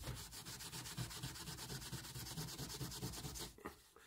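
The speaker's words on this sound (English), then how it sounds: "if we put some cleaning solution on it, and a bit of steel wool, fine steel wool, we can actually reveal the lovely detail" Fine steel wool with cleaning solution rubs an inlaid mahogany leg of a George III Sheraton side table, a close, quiet, rhythmic scrubbing of quick regular strokes that stops near the end.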